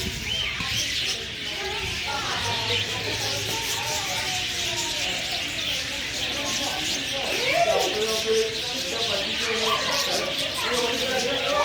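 Dense, busy bird chatter with chirps and coos from many birds at once in a bird park in Thanjavur, a steady layered din with faint voices underneath.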